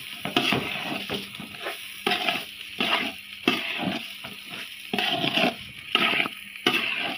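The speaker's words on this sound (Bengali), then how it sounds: "কিন্তু আমি ভেজে রান্না করি।" Chicken pieces frying in oil in a pot for Dhakaiya chicken biryani, a steady close sizzle broken by repeated bursts of stirring and scraping, with no talk.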